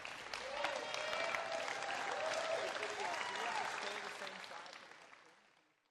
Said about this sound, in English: so you got a standing ovation on that shot.